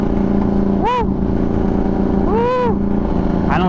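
Ducati 1199 Panigale engine droning steadily while riding, with three sharp rising-and-falling revs as the throttle is blipped, loud and close throughout.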